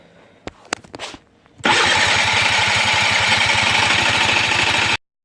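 A Suzuki LT80 ATV engine is cranked close by: a few sharp clicks and pulls, then a loud, steady pulsing putter as it catches, running rough for several seconds before cutting off abruptly, with no talk.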